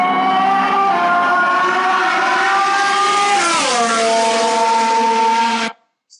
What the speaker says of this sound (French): la différence de perception de la fréquence de ce moteur entre le moment où la moto est en rapprochement et le moment où la moto est en éloignement